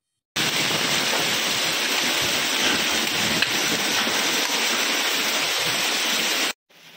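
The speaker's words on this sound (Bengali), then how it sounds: "শিলাবৃষ্টির দাপটে টুপটাপ শব্দ চলছে যেমন" A hailstorm in Basirhat beats on roads and rooftops with a dense, steady hiss of pattering that holds at an even level for several seconds, then cuts off abruptly.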